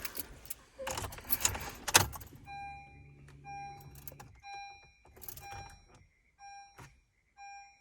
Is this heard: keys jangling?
yes